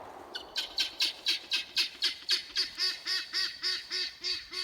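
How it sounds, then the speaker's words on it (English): Neighbors' guinea fowl call noisily in a steady rhythm of about fifteen harsh, squawking cries, fairly loud and close, with no talking over them. "And the guineas. Making a ton of noise here."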